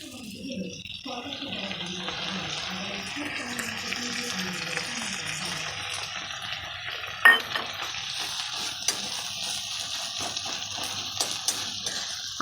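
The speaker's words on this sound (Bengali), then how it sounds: "দিয়ে দিচ্ছি আদা রসুন লঙ্কা ধনে আর জিরে বাটা" Ginger, garlic, chilli, coriander and cumin paste hits hot oil in a pan for an egg and carrot curry, giving a steady broad sizzle with a sharp utensil tap partway through and a few lighter clinks.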